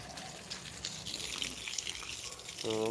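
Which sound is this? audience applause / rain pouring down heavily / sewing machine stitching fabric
rain pouring down heavily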